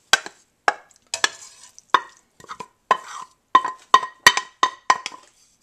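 Chopped peppers tip into a pot of Spanish rice in a run of about eleven sharp clinks and scrapes, spaced roughly half a second apart, close and fairly loud with no talk.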